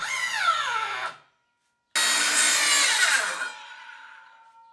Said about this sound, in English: I had a circular saw collecting dust in my garage, hoping their blades would spin again.